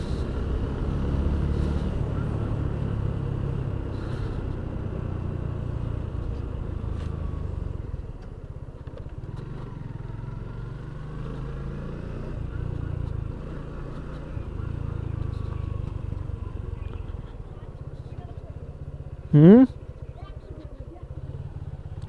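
Steady low rumble of road traffic passing on the street outside a house in northern Bangladesh, with engines droning throughout and a brief louder rising whine near the end.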